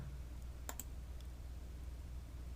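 A computer mouse clicks a couple of times while dragging along a software timeline, the quick, faint clicks sitting over a steady low room hum with no talking.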